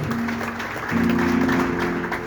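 A church congregation claps together in a steady burst of applause, dense and close, with a sustained musical tone underneath and a swell in loudness partway through.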